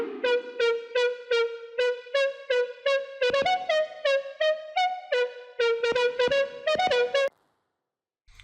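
A bright synth lead preset with reverb plays a melodic run of short plucked notes in a steady rhythm, clean and upfront, ending with a brief reverb tail before silence.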